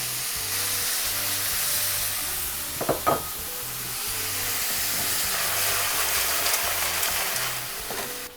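Clams and marinated tomatoes sautéing over low to medium heat in a single pan for a one-pan vongole rosso pasta, a steady close sizzle and hiss with a few brief clinks of stirring, no talk.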